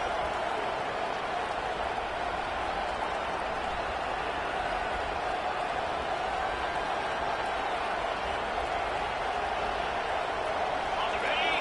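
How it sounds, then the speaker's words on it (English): A stadium crowd at a football game roars continuously, a dense, loud wall of cheering that holds steady throughout, with a commentator talking over it. "This crowd, full throat, spreading the eardrums and letting them know it's going to be a long day"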